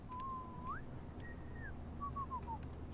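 Whistled melody from a character in Life Is Strange Remastered: a few sliding, tonal phrases rising and falling over a steady low hum, clear and fairly close, with no talking.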